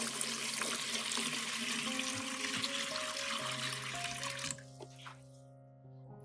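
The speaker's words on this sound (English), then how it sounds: "Pour water into a large bowl." Water is poured into a large bowl in a steady, full rush that stops abruptly near the end, with background music continuing throughout.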